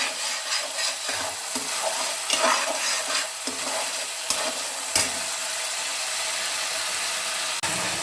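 Masala sizzles in a hot pan while a spoon scrapes and stirs in quick, repeated strokes, close up with no talking.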